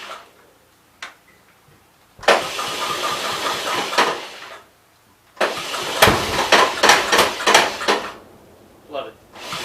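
A 1966 Ford 80 engine cranks and fires, running in two loud bursts with a pause between, rough and uneven with clattering ticks, a brief quieter sound before it catches.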